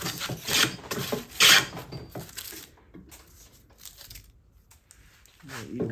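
A hand plane takes thick shavings off the edge of a wooden board in a series of raspy, swishing strokes, loud and close, with pauses between passes.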